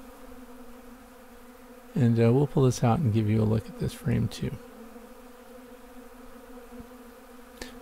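Honey bees buzzing around an observation hive, a loud close burst of overlapping wing drones in the middle with someone talking over it, then dropping back to a quieter background hum.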